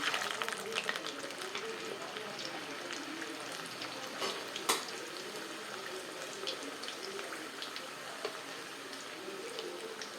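Urad dal appalam samosas frying in hot oil, a steady bubbling crackle running throughout with a brief sharper pop near the middle, under faint background voices.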